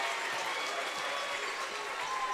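The Osceola crowd cheering and applauding at a high school boys basketball sectional championship game, a dense, sustained roar throughout.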